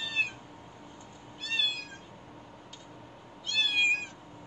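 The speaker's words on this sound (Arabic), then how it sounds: "صوت قطوة" Three recorded cat meows play from the front-mounted external speaker of a 2024 all-electric Zeekr X, each a clear mid-volume meow separated by short pauses over a low hum.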